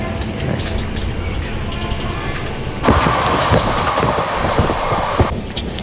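A passenger train running on the tracks near Srikakulam Road, heard from inside the carriage as a steady loud rumble, with rhythmic clickety-clack of wheels growing louder midway and then easing off.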